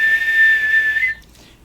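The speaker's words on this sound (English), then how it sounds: "you hear a whistle in the distance" A single steady whistle held for about a second, clear and fairly loud though meant as distant, then cutting off into quiet room tone.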